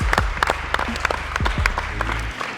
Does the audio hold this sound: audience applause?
yes